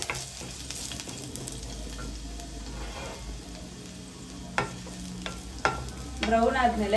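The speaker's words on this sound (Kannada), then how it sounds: "ಇವಾಗ ಎರಡನ್ನೂ ಚೆನ್ನಾಗಿ ಸ್ವಲ್ಪ ಬ್ರೌನ್ ಆಗೋಷ್ಟು ಫ್ರೈ ಮಾಡ್ಕೊಳ್ಳಿ" Ingredients fry in a hot pan while a cabbage paratha is prepared, giving a steady sizzle with scraping stir strokes and a few sharp utensil knocks near the end.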